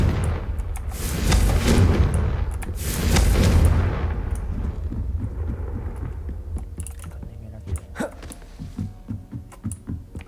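Confringo spell explosions in the Hogwarts Legacy video game: two heavy, rumbling blasts close together, then a quieter stretch of small clicks and scattered sounds as the rumble dies away.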